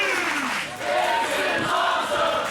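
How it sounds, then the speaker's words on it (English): A Fresno crowd cheers and yells in appreciation at a live wrestling event, a loud, dense roar of many voices sustained throughout. "Crowd in Fresno showing their appreciation"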